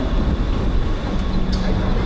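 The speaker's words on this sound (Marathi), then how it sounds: "आपली ट्रेन अरायविंग होत आहे" A Mumbai local train pulls into Chhatrapati Shivaji Maharaj Terminus, a dense, loud roar of wheels and carriage noise filling the moment with a brief higher squeal near the end.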